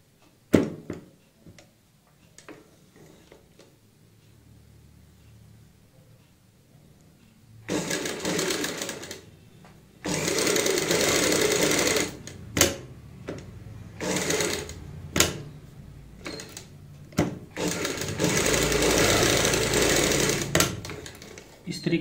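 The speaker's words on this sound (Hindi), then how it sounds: "अब हम इसको पलटते हैं और पलटने के बाद ऊपर से सिलाई लगा लेते हैं।" A sewing machine topstitches a neck strip on a kurti, with loud close bursts of rapid mechanical stitching broken by brief stops after a quieter opening of handling noises.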